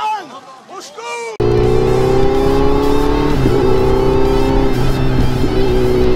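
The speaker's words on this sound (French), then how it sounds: "Au moins maintenant ça doit s'entendre, ma moto elle fait moins de bruit." A motorcycle engine fitted with an added exhaust baffle runs close and loud as a steady, unbroken drone, starting abruptly after a brief stretch of talking.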